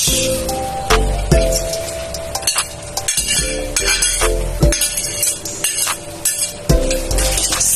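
Stirring pancit with carrot and cabbage in a pan, spatula clinking and scraping against metal in an irregular rhythm, close up, over faint sizzling.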